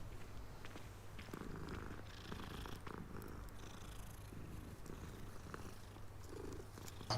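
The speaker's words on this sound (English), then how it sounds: "No, it's a kitty." A cat purrs softly and continuously in Hogwarts Legacy, a low rhythmic rumble sitting close under faint ambient game sounds.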